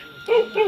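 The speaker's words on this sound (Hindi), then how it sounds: "और इसीलिए कुत्ता भौंक रहा है।" A dog barks at a tiger on the path below, a short pair of loud, nearby barks standing alone without speech.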